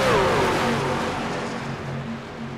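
A race truck engine at Auto Club Speedway holds a steady high drone as it passes, pitch sliding slightly downward and fading a little over the short stretch, with no voices.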